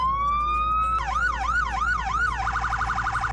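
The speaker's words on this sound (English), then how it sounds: "Here's a police light test." A Ford Crown Victoria police car siren in a Roblox game sounds a rising tone that swings into a steady wailing sweep, then switches to a fast yelping warble, loud and clear with no talk.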